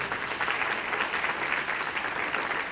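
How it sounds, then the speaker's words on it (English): Conference audience applauding sponsors and partners, a dense, even wash of many hands clapping at once, steady and alone for a few seconds. "please join me in giving a round of applause to all the sponsors and partners"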